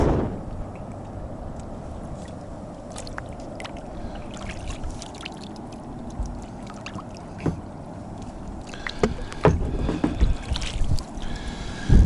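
A kayak moving along a river approaching a weir, with soft paddle splashes and water lapping over a light wind rumble, louder splashes near the end.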